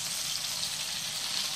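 Battered chicken pieces fry in hot oil, giving a steady, loud, even sizzling hiss with no pauses.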